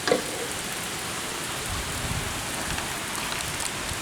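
Heavy rain pours steadily through a night thunderstorm that has just dropped hail, a dense even hiss with faint low rumbles underneath and no voices.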